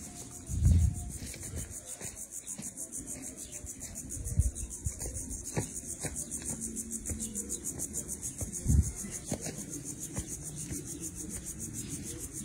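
A cicada drones in a weedy field of pigweed after rain, a steady, shrill, pulsing buzz that runs throughout, with a few low thumps and rustles from nearby movement underneath.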